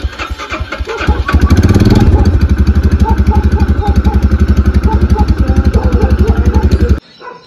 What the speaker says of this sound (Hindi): बाइक स्टार्ट करी है स्टार्ट तो हो गई है